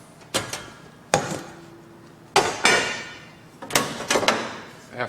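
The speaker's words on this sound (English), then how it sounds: "So we take the grates off." Heavy metal grates lifted off a Capital Culinarian gas range top, several separate sharp clanks and knocks spaced out, close and fairly loud, with no one speaking.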